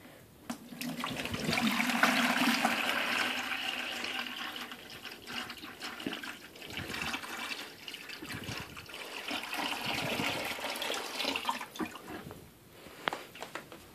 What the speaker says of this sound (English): Now you just take your water and you fill it over the entrance of that little nozzle down there.